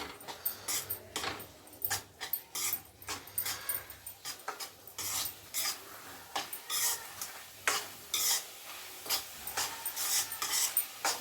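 Chili powder sizzles in hot frying oil as it is stirred, with repeated scraping strokes and crackling bursts over a steady frying hiss, close up in a home kitchen, with no talking.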